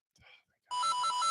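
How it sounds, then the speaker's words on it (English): A phone ringtone cuts in during a high school football talk show, a loud electronic repeating melody that starts abruptly after a brief faint murmur and continues steadily. "That's a phone call right in the middle of the show."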